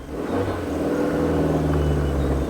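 A Suzuki Jimny on 235/75 R15 tyres crawls off-road in first gear and four-wheel-drive low, its engine revving steadily and close by with a rising then sustained mid-pitched drone.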